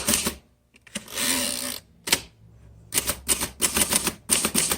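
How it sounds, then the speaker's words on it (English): A 1936 Remington Rand 5 typewriter being typed on, sharp clacking keystrokes in quick clusters, with a longer ratcheting carriage or mechanism sound early on, close and clear. "A beautiful typewriter."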